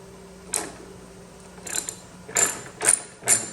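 A ratchet works on Torx and 10 mm bolts on an abandoned 1985 Corvette, producing several short bursts of clicking spaced irregularly over a quiet background, close and fairly clear.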